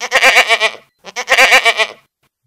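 A goat gives two loud, wavering bleats close by, each about a second long with a short pause between, set in a children's fairy tale.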